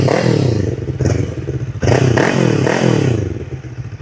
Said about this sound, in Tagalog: ganyan po ang tunog ng twin cylinder na Falcon 400X